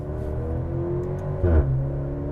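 A Maserati Grecale Modena engine idles with a smooth, steady hum, then gives one brief, gentle rev partway through that quickly settles back down.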